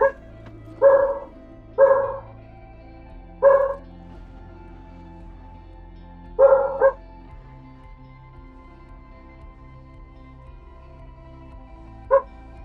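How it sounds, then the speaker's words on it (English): A pet dog in a quiet room gives about six short, sharp barks spaced irregularly over several seconds, fairly close and loud against near silence. "It's possible to hear my dog, right?"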